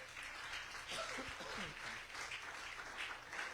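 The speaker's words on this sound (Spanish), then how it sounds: "Dele un aplauso al que vive y reina" Church congregation applauding during a worship service, steady clapping throughout with faint chuckles and a brief voice early on.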